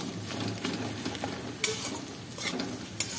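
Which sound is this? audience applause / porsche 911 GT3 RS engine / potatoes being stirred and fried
potatoes being stirred and fried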